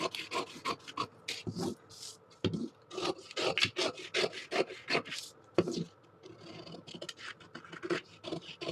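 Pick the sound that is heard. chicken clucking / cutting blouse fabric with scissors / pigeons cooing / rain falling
cutting blouse fabric with scissors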